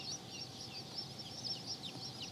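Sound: White Crested Black Polish chickens clucking

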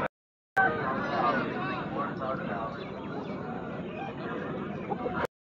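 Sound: Kaki Dega rooster clucking at poultry market

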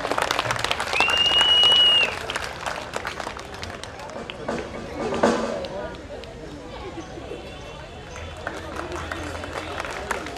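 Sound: audience applause at festival

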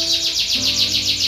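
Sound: songbird chirping

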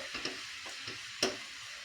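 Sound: mixing unsweetened cocoa powder into cake batter

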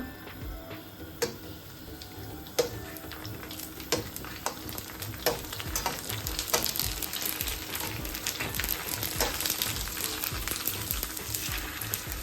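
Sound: samosas and rolls frying in oil

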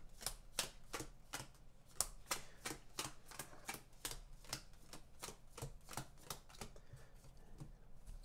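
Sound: shuffling a deck of cards

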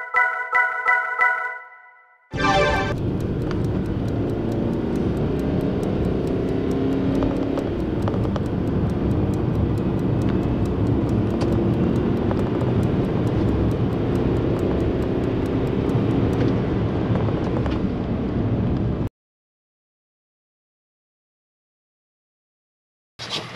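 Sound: VW Transporter T6.1 TDI 150 DSG7 van interior driving noise

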